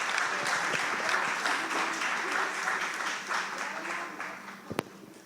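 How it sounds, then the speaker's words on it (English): Audience applause at a panel session during the WBBN 2022 conference, steady dense clapping from a crowd throughout that thins slightly toward the end, with one sharp louder clap near the close. "One more round of applause for them."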